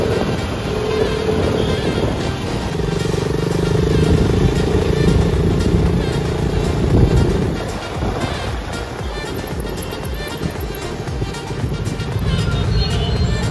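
Road traffic heard from a moving motorcycle: a steady rumble of engines and passing vehicles mixed with wind buffeting, loud and continuous, with a high chirping tone near the end.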